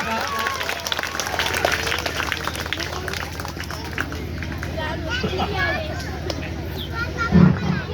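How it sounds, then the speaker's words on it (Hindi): Loud, steady applause from a large crowd welcoming the Prime Minister at a public event, a dense wash of clapping that holds for several seconds and swells briefly near the end. "अब जोरदार तालियों से स्वागत करिए प्रधानमंत्री जी का।"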